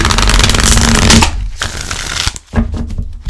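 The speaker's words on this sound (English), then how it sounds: "let's give it a quick shuffle" A quick riffle of tarot cards being shuffled close by, a loud papery flutter followed by a brief pause and another short shuffle.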